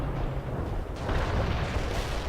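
Dense, continuous battlefield gunfire and artillery rumble in the real-time strategy game World in Conflict, a steady loud barrage of booms and bursts with no clear gaps, swelling slightly toward the end.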